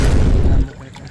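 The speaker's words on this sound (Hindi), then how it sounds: "चलें इसको डालें पानी" Water poured from a bottle into a bird cage, a steady close gush that stops abruptly partway through, leaving a quieter trickle and ambient background.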